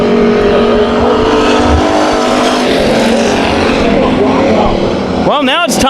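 Race cars at Bakersfield Speedway roaring back to speed on a restart, a loud dense pack of engines revving continuously, with a commentator talking over the noise and a sharp rising whine near the end.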